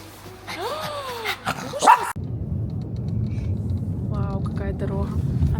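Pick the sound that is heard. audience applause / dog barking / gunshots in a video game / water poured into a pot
dog barking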